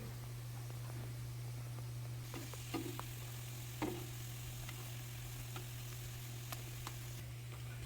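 Salmon patties fry slowly in a pan, giving a soft, steady low sizzle with scattered small crackles and ticks over a constant low hum.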